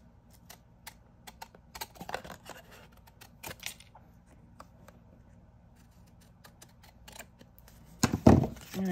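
Scissors snip through paper for a craft project in sparse, sharp clicks spread across a quiet room, ending in a louder, longer cutting rustle close by.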